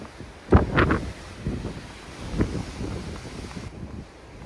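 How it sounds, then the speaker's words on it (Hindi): Strong wind during a snowstorm near a tree by a road in Russia: blustery gusts roar against the microphone in uneven bursts, louder near the start, over a constant rushing background, no talk. "ये पेड़ का देखो कितनी तेज हवा चल रही है"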